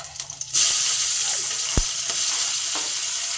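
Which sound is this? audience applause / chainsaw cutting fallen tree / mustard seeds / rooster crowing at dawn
mustard seeds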